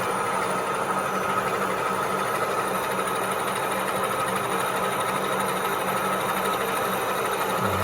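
A 1A616 lathe turns a metal workpiece while chips come off, producing a steady mechanical whir with a constant hum and faint high whine, close and even throughout, with no talk.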